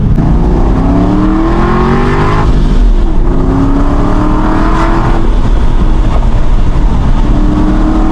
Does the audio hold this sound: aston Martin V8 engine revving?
yes